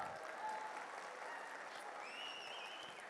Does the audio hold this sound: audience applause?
yes